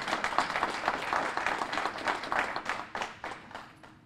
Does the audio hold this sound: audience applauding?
yes